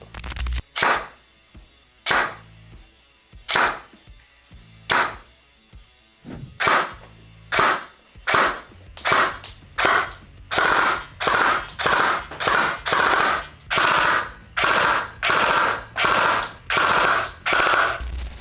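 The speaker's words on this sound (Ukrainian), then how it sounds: "Тепер давайте відхронуємо та постріляємо." A G&G Armament M4 FAR 556 airsoft rifle with an M90 spring fires: spaced single shots at first, then quicker repeated bursts of sharp, snappy cracks, each with a short mechanical clack.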